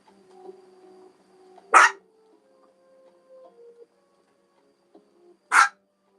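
A dog gives two sharp, loud barks spaced several seconds apart in an otherwise quiet indoor room with faint electronic tones in the background.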